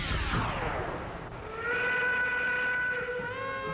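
A steam locomotive whistle sounds alone, a falling sweep giving way to a sustained multi-tone blast with a steady hiss beneath it.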